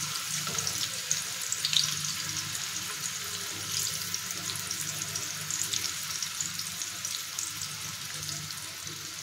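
Fish frying in oil flavoured with garlic in a pan, a soft continuous sizzle and crackle held at a low, steady level throughout, with no voices over it.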